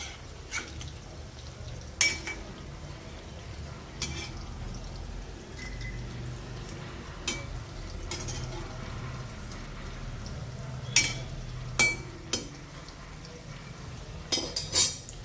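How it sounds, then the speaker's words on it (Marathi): Chicken fingers fry over low heat in a pan and are turned, giving faint, scattered clinks and scrapes of a utensil against the pan over a quiet, low background. "हे छान मंद आचेवर तळूया अजून"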